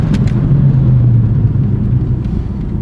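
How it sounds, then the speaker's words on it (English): BMW F80 with a turbocharged engine pulling hard while brake pads are bedded in, a loud close-up rumble and rising whir that swells then eases away, with no talk. "Listen to that turbo."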